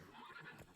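A brief, fairly faint horse whinny from Roach in The Witcher 3, a single short neigh with a hint of hoof clatter, heard alone.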